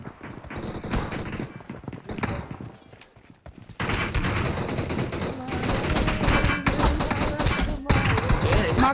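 Gunfire in the mobile battle royale game BGMI, dense bursts of rapid shots with a brief lull before heavy sustained firing resumes, loud and close, with players talking over it.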